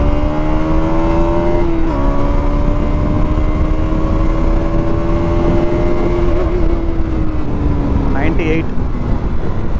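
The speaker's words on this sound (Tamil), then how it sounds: "தேர்ட் கியரில் வந்து புஷ் பண்ணோம்." A KTM Duke 200 Gen 3 motorcycle accelerates hard in third gear, its engine note climbing steadily and loud close by, with wind rush throughout and a brief higher whine near the end.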